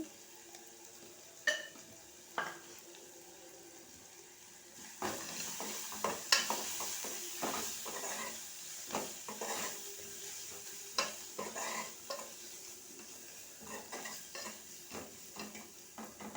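Bitter gourd pieces with a little turmeric fry in a pan and are stirred repeatedly. A low, steady sizzle runs underneath, broken by frequent scraping clinks of a spoon against the pan.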